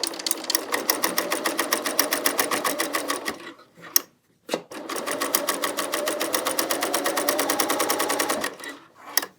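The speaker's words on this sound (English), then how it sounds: "So, I'm just going to start sewing." A BERNINA L 890 sewing machine stitches knit dress fabric with a rapid, steady mechanical chatter. It stops briefly for a click or two, then runs again at the same even pace, close up.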